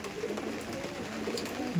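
Soft, low cooing of Giribaj pigeons repeats steadily against a faint background hum, close and gentle.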